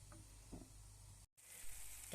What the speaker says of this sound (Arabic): نغطوا المقله تاعنا ونخلوها تتقلى كيف كيف مده 10 دقائق وحده اخرى